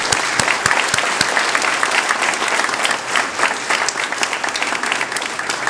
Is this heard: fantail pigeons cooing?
no